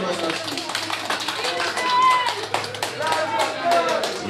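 Audience clapping at a community travel group's political gathering in Manggarai, a steady patter of hands mixed with crowd noise and overlapping voices throughout, fairly loud and continuous.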